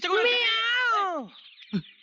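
Cat giving a long, clear drawn-out meow close by, sliding downward in pitch, followed by a short thump.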